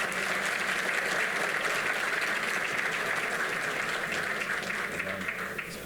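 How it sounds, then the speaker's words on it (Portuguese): A conference audience applauds steadily and loudly throughout, a dense wash of clapping that tapers slightly at the end. "peço uma salva de palmas para ele."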